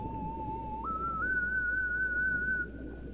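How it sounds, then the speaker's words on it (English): An underwater whistle item in the Endless Ocean video game sounds as a clear, sustained tonal whistle that steps up in pitch partway and then holds steady, over a low ambient underwater hum. "Underwater whistle."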